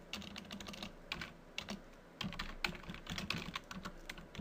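A password is typed on a computer keyboard in quick, irregular bursts of close, crisp key clicks with brief pauses, heard alone at low volume.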